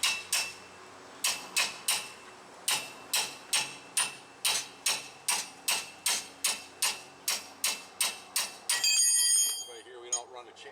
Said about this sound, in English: I'm going to hit this with the hammer a couple of times